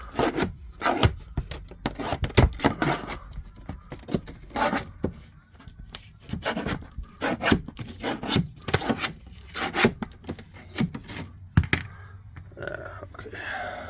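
A wide putty knife scrapes and pries stapled trim away from a soft camper floor, giving repeated close rubbing, rasping bursts in an irregular rhythm with brief pauses.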